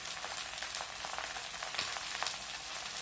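Pulicha keerai (sorrel spinach leaves) sautés in a pan, making a soft, continuous crackling sizzle that stays fairly faint and close throughout.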